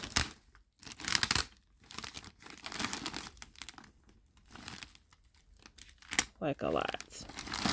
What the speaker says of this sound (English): I had to get a piece of tape to catch all of this hair